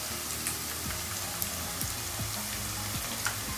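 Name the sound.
cumin seeds frying with onions in oil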